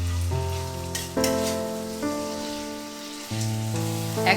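Turmeric- and salt-rubbed tilapia pieces sizzle loudly in hot oil, a steady close crackle with occasional stirring bumps and no talk.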